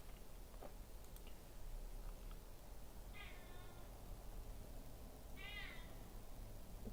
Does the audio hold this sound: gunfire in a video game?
no